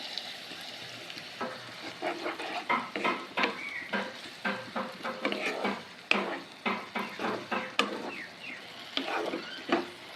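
Ginger, garlic and green chilli paste frying with onions for mutton-fat ghugni, with steady sizzling broken by frequent scraping strokes of a spatula against the pan, close and fairly loud throughout.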